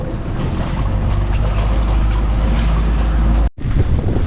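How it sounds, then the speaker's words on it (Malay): Strong wind buffets a floating fishing raft camp on open water at Ulu Tiram, a steady loud rush with low rumble that cuts out abruptly near the end, then resumes. "Angin kuat dia"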